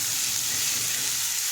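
Chilli paste sizzles and fries steadily with jackfruit in a hot pan, a close, continuous hiss with no voices.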